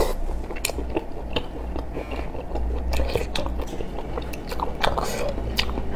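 Someone bites and chews small shellfish one mouthful at a time, with close, crisp crunching and wet chewing sounds repeating throughout, no talk.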